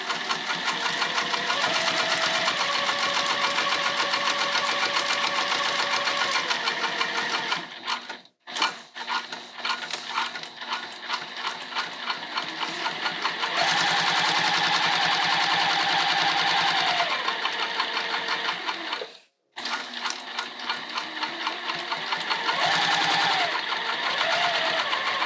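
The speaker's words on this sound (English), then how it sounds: "Once you're happy with that, let's top stitch. Bring it over to the machine." A sewing machine top stitches a beginner's bag at a 4mm stitch length, running in long, steady, loud bursts with two brief stops, close up and with no talk.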